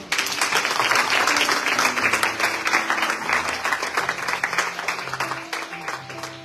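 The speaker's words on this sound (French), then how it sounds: "Est-ce qu'on va acclamer le Seigneur?" A church congregation bursts into sustained, dense applause and clapping to acclaim the Lord, loud and close, holding steady for several seconds before thinning slightly, with faint voices mixed in.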